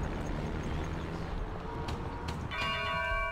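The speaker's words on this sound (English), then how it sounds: "Ring the alarm bell." An alarm bell rings in the strategy video game Rise of Nations, a bright sustained metallic tone that enters near the end over a dense, constant rumble of game ambience.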